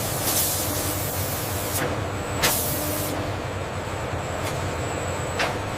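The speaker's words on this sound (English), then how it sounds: "Carbon fiber brackets are subjected to high-pressure solvent jets and ultrasonic removing residual" High-pressure solvent jets spray carbon fiber brackets, a steady loud hiss running throughout with a few sharper bursts of spray, no talking.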